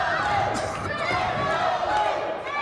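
A wrestling crowd at a heavyweight championship match roars steadily for Luke Langley, a dense, sustained wall of cheering and shouting that stays loud throughout.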